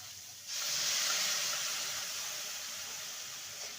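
Spice-rinsing water poured into a pan of bitter gourd curry, a steady hissing, splashing rush that starts abruptly after a short pause and continues evenly, close and fairly loud.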